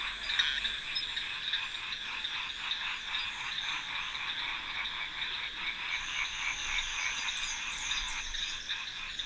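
A dense chorus of frogs croaks in a Madagascar rainforest, a continuous pulsing, rattling trill that fills the scene evenly throughout, with a few higher chirps joining near the end.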